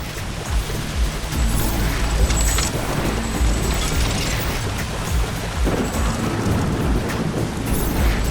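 A thunderstorm in the video game The Riftbreaker fills the scene with a loud, continuous rain-like roar over deep rumbling, steady throughout with no pauses.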